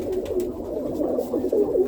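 A flock of roller pigeons keeps up a continuous soft cooing nearby, overlapping throaty calls rolling on without pause.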